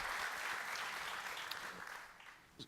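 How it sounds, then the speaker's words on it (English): Audience applause for speakers at a tech conference keynote panel, a steady wash of many clapping hands from a moderately sized crowd that gradually tapers off. "please give us a round of applause for the speakers"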